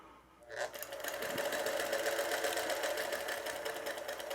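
Sewing machine chain piecing quilt blocks, starting after a brief pause and then running in a steady, fast, continuous whir close by.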